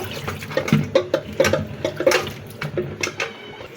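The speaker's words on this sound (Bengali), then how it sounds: "ভেন্ডিগুলোকে সুন্দর করে ধুয়ে আমি কেটে নেবো" Okra is rinsed by hand under running water in a home kitchen, close splashing and irregular sloshing bursts over a steady trickle of water.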